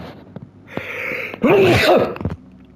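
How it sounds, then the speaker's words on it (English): A single loud sneeze, preceded by a sharp inhaled buildup and followed by a short breathy exhale, close to the microphone. "Sneeze."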